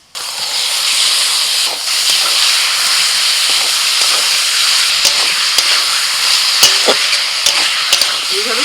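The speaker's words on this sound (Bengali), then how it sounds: "এইভাবে চিকেনটাকে প্রথমে 5 মিনিট নাড়াচাড়া করে নেবো আদা রসুন পেঁয়াজের সাথে" Chicken stir-fried with ginger, garlic and onion paste in a hot pan: a loud, continuous sizzle and hiss, with scattered scrapes and clacks of a spoon stirring, close and steady.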